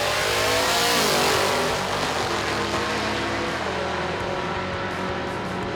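Drag race cars launching heads up down the quarter mile at Atco Dragway, a loud, roaring engine blast that swells at the start and then holds and fades slightly as the cars pull away.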